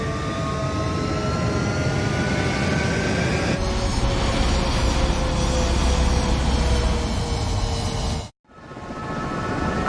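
Fighter jets roar during takeoff in the combat flight game Ace Combat 7, a loud steady engine rumble and whine filling the scene without pause before cutting out abruptly near the end.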